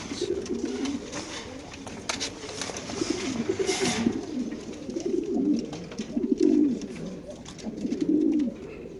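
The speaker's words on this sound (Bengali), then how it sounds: "বড় সাইজের কবুতর" Large racer pigeons coo in repeated low, throaty bursts nearby, several calls overlapping over a soft background of rustling.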